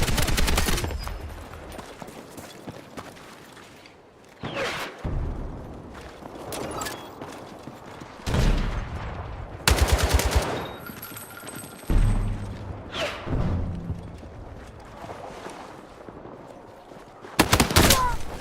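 Bursts of automatic gunfire and single shots from a Battlefield 6 video game firefight, loud and repeated across the span, some volleys dense and rapid, with brief quieter gaps and a little game sound in between.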